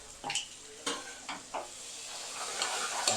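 A spoon stirs onions, green chilies, turmeric and ginger sizzling in a pan, with several distinct scraping knocks against the metal over a steady low frying hiss.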